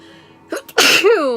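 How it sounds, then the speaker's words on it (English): A single close, loud sneeze from a woman in a makeup session indoors, a short sharp inhale catch followed by an explosive burst that trails into a brief voiced tail. "I gotta sneeze."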